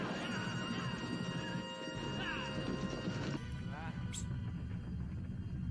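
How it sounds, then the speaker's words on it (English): Many horses pound in a steady rumbling gallop in a western film, with neighing and shouts over the top, all dense and close. "No match for that many horses coming at you at pace."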